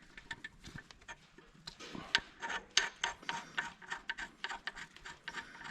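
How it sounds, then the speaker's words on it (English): Faint, repeated scraping and rubbing as plastigauge is worked off an engine bearing during an engine overhaul, a series of short, uneven strokes close by with no talking. "So, got the plastic gauge scraped off from there."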